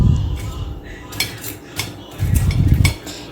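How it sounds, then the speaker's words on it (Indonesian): A plate is set down for plating fried pork ribs, with a few close clinks and knocks of dishware and cutlery against a counter, scattered over a few seconds. "Jadi aku taruh piring."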